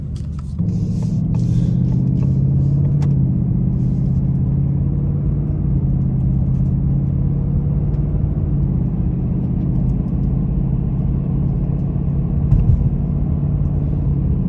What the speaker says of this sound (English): You can hear it picking up the little pebbles off of the road